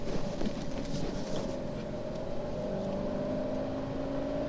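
Engine of a 2016 Fiat Panda Cross TwinAir 0.9 while driving, a steady droning hum with a low rumble and a faint tonal whine, heard from inside the car at constant volume.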